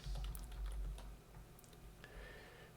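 Fingers type on a computer keyboard at a Linux terminal, giving a fast, light run of clicking keystrokes that is fairly quiet and steady, with no voices.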